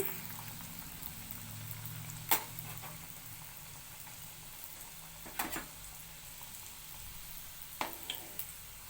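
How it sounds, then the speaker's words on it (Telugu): Vegetable Maggi rolls deep fry in hot oil, giving a soft continuous sizzle and bubbling with a few sharper pops and clinks scattered throughout, fairly quiet and close, with no voices. "ఇప్పుడు డ్రీ ఫ్రై చేసుకుంటాను"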